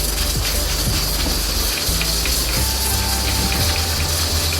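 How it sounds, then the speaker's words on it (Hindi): One litre of water is poured onto meat in a cooking pot for haleem, a continuous loud gushing and splashing that rumbles steadily close by throughout. "इसमें हम डाल देंगे 1 लीटर पानी गोश्त को पकाने के लिए।"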